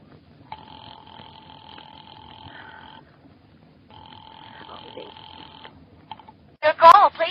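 A telephone rings in a radio drama thriller, two long double-tone ring bursts separated by a pause, followed by a brief louder sound and a voice at the end.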